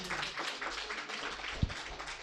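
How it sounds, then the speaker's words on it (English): Lecture-hall audience applauding after a memorial lecture on cosmic horizons: a dense, steady wash of many hands clapping at even loudness, with one brief low thump partway through. "So I think a round of applause for that."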